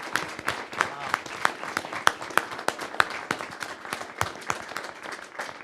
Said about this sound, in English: let's have a huge round of applause for Nicholas and Al.